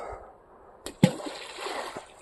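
Two quick splashes sound as groundbait balls drop into river water, with soft lapping and faint outdoor background.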